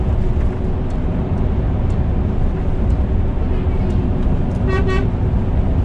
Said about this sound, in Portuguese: Patrulha ali passou buzinando.